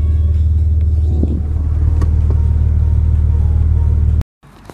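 A truck rig hauling a load of propeller fans idles with a steady low rumble, close and continuous, before the engine cuts off abruptly near the end and leaves a brief near-silence.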